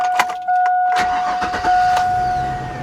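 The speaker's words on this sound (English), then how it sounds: "Listen to that. Cold start too, guys" A Chevrolet Suburban SUV engine cold start: it cranks with a few clicks, catches and settles into a steady idle, heard up close while a warning chime tone rings.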